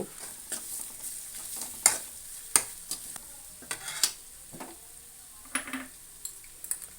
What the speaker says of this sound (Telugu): ఉప్పు వేసుకొని మంచిగా కలుపుకుంటే మంచిగా రెడ్గా మంచిగా చిక్కుగా ఫ్రై అవుతుంది ఉల్లిగడ్డ